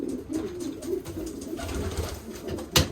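Soft, repeated coos of a racing pigeon in a gentle rhythmic pattern, close by and fairly quiet, with a brief louder rustle near the end.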